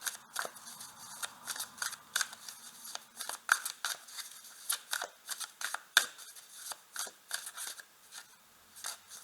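Tarot cards being shuffled and drawn: a quick run of crisp papery flicks and slaps, close and fairly quiet, with no talking.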